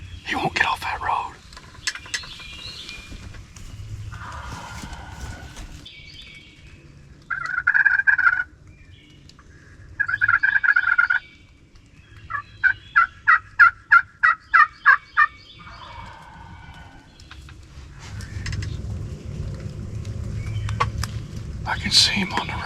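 A wild turkey gobbles on a gravel road from about 80 to 90 yards away. Several loud rattling gobbles come in bursts, including a rapid stuttering run, and a hunter whispers before and after.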